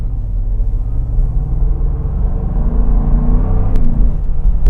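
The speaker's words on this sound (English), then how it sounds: "Just going about 10 miles per hour, I can already tell how nice this car sounds." A 2023 Land Rover Defender with a supercharged V8 cruising at low speed, its steady low engine rumble and drone building gently as it drives, close and continuous with no talk.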